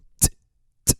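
Two sharp breathy "ts" bursts from a voice imitating a hi-hat, about half a second apart, close and crisp, with silence between.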